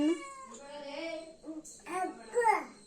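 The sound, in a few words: cat meowing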